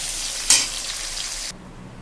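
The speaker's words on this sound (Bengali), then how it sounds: "আমি আলু বসিয়ে দিয়েছি ভাজা লবণ দিয়ে বসিয়ে দিয়েছি" Steady, close sizzling of potatoes frying in hot oil with salt and cumin, with a brief louder crackle burst, then the sizzle drops quieter near the end.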